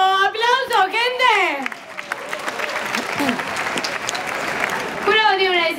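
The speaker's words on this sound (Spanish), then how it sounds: "¡Tiempo! ¡Aplauso, gente!" An audience at a 2019 rap battle tournament bursts into loud, dense applause and crowd noise lasting several seconds, set between stretches of a man's amplified speech at the start and end.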